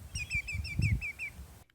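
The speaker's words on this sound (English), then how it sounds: "the greater yellowlegs typically giving 3 to 4 notes" A greater yellowlegs gives a clear series of descending whistled notes, about six in quick succession, fairly close and alone over soft low background rumble.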